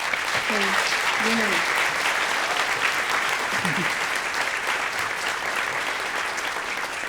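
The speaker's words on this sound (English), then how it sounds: "I'd like you to give a huge round of applause to" Applause from a conference audience at Creative Innovation 2019 Asia Pacific, sustained dense clapping filling the hall throughout, with a brief voice and a few whoops rising over it.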